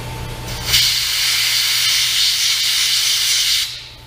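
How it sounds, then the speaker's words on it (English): A steady burst of compressed air hisses through an undercoating spray gun for about three seconds, loud and close, starting and stopping abruptly over a low background hum. "blow some compressed air through it through the gun"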